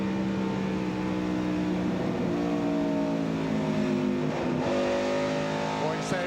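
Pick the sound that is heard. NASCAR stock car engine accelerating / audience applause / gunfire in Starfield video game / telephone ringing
NASCAR stock car engine accelerating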